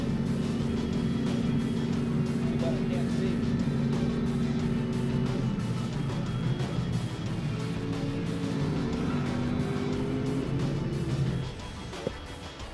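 Race car engine in the Grid racing video game, a continuous droning roar with held tones that shift pitch as the car accelerates and changes gear, steady and loud before dropping off near the end.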